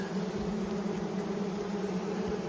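Honey bees buzzing close up at an open hive during a spring inspection, a steady low droning hum that holds evenly throughout, fairly faint, with no voices.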